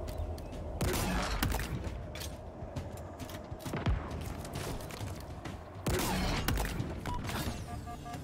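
Sniper fire in the video game Halo Infinite, a few sharp, loud cracks spaced seconds apart over a low, steady hum of game ambience.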